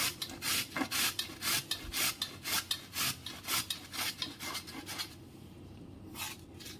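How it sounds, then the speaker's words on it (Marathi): Fresh turmeric root scraped across a grater in quick, rhythmic rasping strokes, each a short gritty rub, close and steady before slowing near the end, with no talking. "अशा प्रकारे सगळे हळदी आपल्याला खिसून घ्यायचे"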